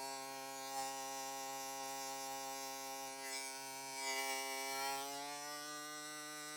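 An electric hair clipper, a VGR 015 with a vector motor fitted with a ZSZ blade, runs with a steady, even buzzing hum up close that barely changes pitch.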